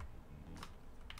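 A few soft keystrokes click on a computer keyboard, faint and sparse against quiet room hum.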